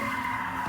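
Car tires skidding and squealing as a car does donuts at the Lamb and Hacienda intersection in Las Vegas, a sustained loud screech with engine roar, continuous and close throughout.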